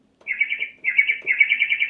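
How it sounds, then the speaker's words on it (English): Bird tweet sound effect from a NikoMaku SWAN-S portable digital piano: three bursts of bright, rapid electronic chirping trills, loud and close, with no talking. "and there's our bird tweet."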